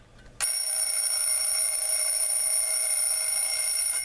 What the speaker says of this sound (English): We're going to hear the alarm right now in real time.